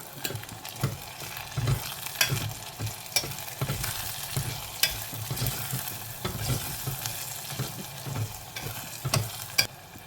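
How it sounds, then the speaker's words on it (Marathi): Coriander-cumin powder spices frying in oil while being stirred, with a steady sizzle broken by repeated soft scraping strokes of a spoon or spatula in the pan, close and alone with no talking. "धणे जिरे पावडर, हे मसाले आपण तेलावर परतून घेऊया."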